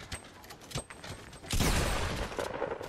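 Gunshots in a video game come as a few sharp cracks, then a dense sustained burst of firing, close and loud, with no talking over it.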